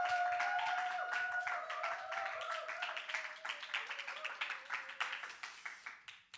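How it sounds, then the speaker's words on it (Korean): A church congregation welcoming a missionary with steady clapping that swells, then thins into scattered claps as it fades, heard from within a large room. "힘찬 박수와 환호로 우리 격렬하게 좀 주님을 모시듯이 환영했으면 좋겠습니다"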